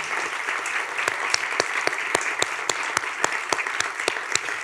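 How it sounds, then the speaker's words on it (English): Audience applause for awardees at a college science and mathematics senior awards banquet: a steady wash of clapping with a few sharp, louder claps standing out, at a moderate level and without talk. "let's give a big round of applause for these awardees tonight"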